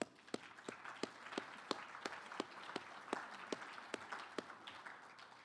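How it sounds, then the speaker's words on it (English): A small banquet audience at a tournament dinner claps for sponsors and competitors, sparse, distinct hand claps ringing out one by one at moderate distance in a quiet room. "I'd like to give them a round of applause."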